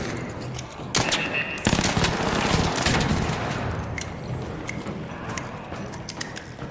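Rapid automatic turret fire in a video game loot run, bursts of gunshots breaking out loud and close, then continuing as a dense rattling volley.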